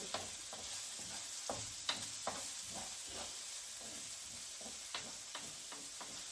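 Onion sautés in a pan for ginataang kalabasa with pork and shrimps, a steady soft sizzle with scattered scrapes and taps of a spoon as it is stirred.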